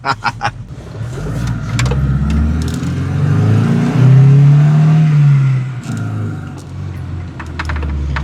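A Volvo 240 engine cranks, starts and settles into a loud running idle, revving slightly, close by, with a few clicks at the start and end.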